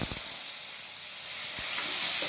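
Cumin seeds, dried red chilli and bay leaf sizzle in hot mustard oil, a bright steady hiss that swells slightly toward the end, with a couple of soft knocks, near and without speech.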